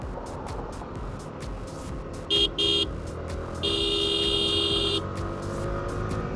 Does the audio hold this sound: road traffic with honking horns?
yes